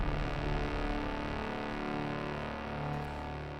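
A thick, buzzing synth horn built from drums, sub bass and trumpet blares steadily, with a deep sub bass underneath and a brassy edge, holding and slowly fading.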